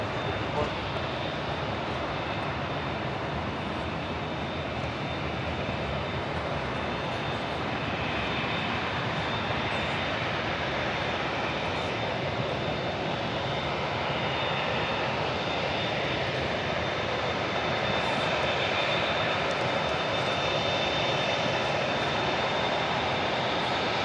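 A jet airliner taxiing on a taxiway at LAX gives off a steady, loud engine roar with a high whine, constant throughout, as if heard from nearby outdoors, with no break in the sound.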